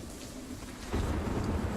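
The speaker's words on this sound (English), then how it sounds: "We have a dynamic weather system, so now it's raining." Rain and thunder from the video game Sniper Ghost Warrior 3, a steady hiss of rainfall with a low rumble that swells louder about halfway through.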